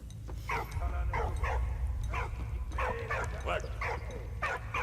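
A dog in the video game Valiant Hearts barks and yips in a series of sharp, repeated bursts over a low rumbling game backdrop, with a voice speaking in between.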